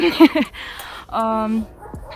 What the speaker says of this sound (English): You can hear the dogs right now.